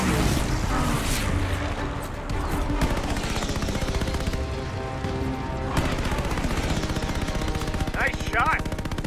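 Bursts of machine gun fire and explosions fill a Call of Duty: Vanguard campaign battle at Midway, with aircraft attacking in waves. The shooting runs continuously and loud under a dense wartime soundscape, and a few short electronic tones come near the end.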